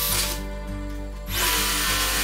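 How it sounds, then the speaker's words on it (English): A power drill with a small bit bores pilot holes through a router table rail, the motor whining steadily as the bit cuts, easing off briefly midway before biting in again. "I use a smaller bit again to drill holes so we can transfer the hole center to the back side of the rail."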